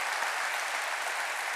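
Dense, steady applause from a large crowd at an awards ceremony, many hands clapping at once in a continuous roar.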